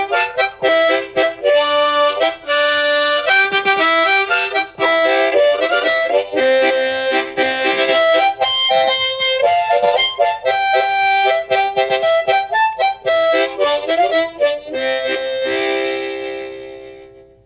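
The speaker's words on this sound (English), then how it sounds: "I can throw in some chord things with my tongue." A harmonica plays a simple folk-style melody, filled out with tongue-blocked chords, in long bright phrases with brief breath gaps before ringing out at the end.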